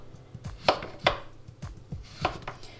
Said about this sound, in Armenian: սմբուկը շատ բարակ չեմ կտրատելու, աշխատում եմ մի քիչ հաստանել շերտերը